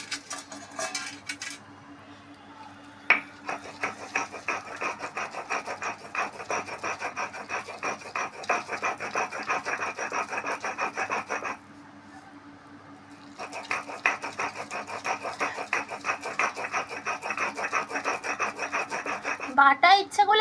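Drumstick flowers are ground to a paste with steady, rhythmic rasping strokes on a grinding stone, close and moderately quiet, running in two long stretches broken by a short pause.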